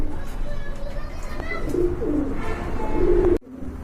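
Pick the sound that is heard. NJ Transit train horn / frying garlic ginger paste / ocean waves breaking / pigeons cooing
pigeons cooing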